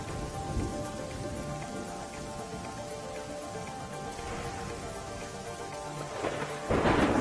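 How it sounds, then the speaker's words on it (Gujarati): A heavy downpour in Nakhatrana taluka, Kutch, Gujarat, hisses steadily while low thunder rumbles beneath it, swelling into a louder roll near the end. "કચ્છના નખત્રાણા તાલુકામાં ધોધમાર વરસાદ પડ્યો."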